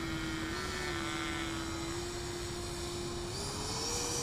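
A Freewing Stinger 90 RC jet at full throttle on takeoff gives a steady, loud, close ducted-fan whine that holds a constant high tone and rises slightly in pitch near the end, with no voices.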